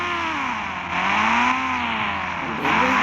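A motorbike engine in a 3D bike video game drones steadily, its pitch gliding up and down as the bike moves slowly, loud and close, with no voices.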